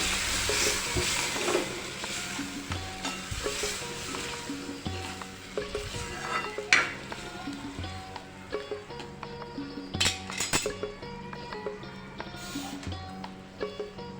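Pea and potato mixture tipped into sizzling masala for ragda patties and stirred, a steady close frying crackle with spoon scrapes and a few sharper clatters, no talk.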